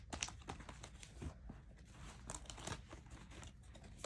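Tarot cards are shuffled by hand for a love reading, giving quiet, close, irregular papery riffles, snaps and slides that run on without any talk.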